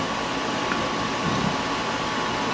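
An air conditioner hums as a steady, broadband whoosh with a faint constant tone, running alone close to a desk with no talking.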